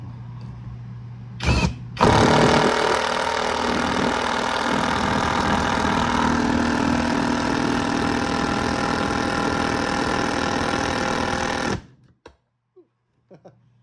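A GoYwato cordless impact driver hammers a lag bolt into a workbench top in one loud, continuous rattling burst of about ten seconds. A brief trigger blip comes before it, and quiet follows as it stops.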